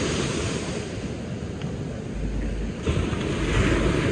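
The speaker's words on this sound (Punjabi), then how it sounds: "ਜਿਹੜਾ ਇੰਨੀਆਂ ਲਹਿਰਾਂ ਬਣਦੀਆਂ ਪਤਾ ਨਹੀਂ ਕਾਹਦੇ ਨਾਲ" Sea waves wash steadily onto a shore in a continuous broad rush that swells louder toward the end, with wind buffeting the microphone.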